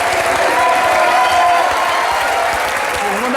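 Studio audience at a French TV talk show breaks into steady, loud applause for a table of guests, a dense continuous wash of clapping that slowly tapers off near the end.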